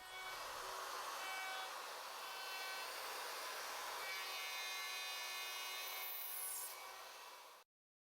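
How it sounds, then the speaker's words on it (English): A router with a dovetail bit cuts tails in wood on a Leigh D4R Pro jig, giving a steady, loud, high-pitched whirring cut that runs continuously before stopping abruptly near the end. "After routing the tails"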